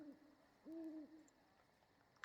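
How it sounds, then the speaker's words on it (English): An owl hooting within a music soundtrack, two soft tonal hoots in quick succession, faint and distant against a quiet background. "There's an owl in there."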